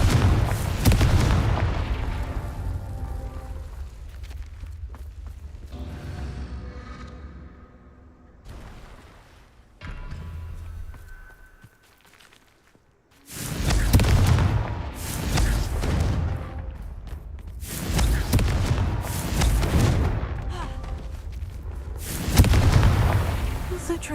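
Confringo fire spell from Hogwarts Legacy blasting repeatedly in combat, heavy booming explosions in several loud bursts with quieter stretches between, game score and effects underneath.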